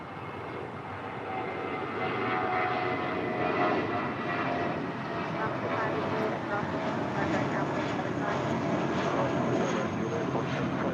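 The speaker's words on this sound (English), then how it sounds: "That was JetBlue Airways Flight 1463 heading to Cabo at that A320." A JetBlue Airways Airbus A320 jet arrives at Los Angeles airport, its engine roar swelling in and holding at a steady moderate level with a thin high whine, while a voice talks faintly in the background.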